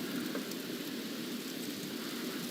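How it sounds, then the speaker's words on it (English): Heavy rain pours steadily during severe July weather, a dense, even hiss of water on surfaces that stays constant and fairly soft in level, with no voices. "My goodness, this rain."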